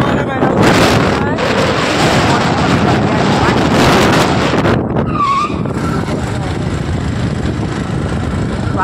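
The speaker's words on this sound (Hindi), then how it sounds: "स्लिप मार रहे हो गाइस, सब स्लिप मार रहे हैं गाड़ी से, आवाज सुनो, आवाज चेक करो।" Cars skid and roar along a road at night in Bahraich, a loud, windy stretch of engine and tyre noise that fills the whole clip, with a brief high squeal near the middle and voices mixed in.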